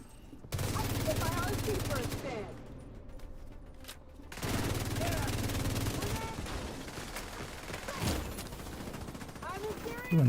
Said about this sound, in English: He went back to shooting pretty quick.